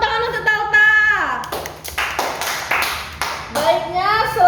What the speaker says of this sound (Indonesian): Tepuk tangan untuk Talta